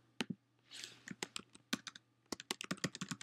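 Someone types on a computer keyboard close by, a quick, irregular patter of sharp key clicks with a brief soft rustle in the middle and a steady faint hum underneath.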